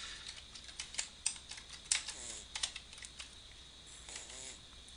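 A few quick keystrokes on a computer keyboard during a recorded finance lecture, light clicks scattered over steady background hiss, near but quiet.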